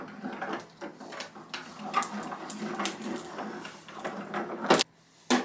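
An AccuQuilt GO! fabric cutting machine being worked along a strip of fabric, making a repeating pattern of soft mechanical clicks, rolls and thumps at close range, ending with a louder clunk and a brief silence.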